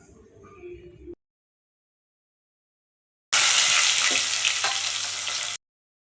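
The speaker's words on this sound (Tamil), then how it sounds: "பூண்டை முழுசாக போட்டுட்டேன்." Whole garlic cloves dropped into hot oil for tempering a traditional South Indian white gravy (vellai kulambu), giving a loud, steady crackling sizzle for about two seconds after a short spoken passage and a silent gap.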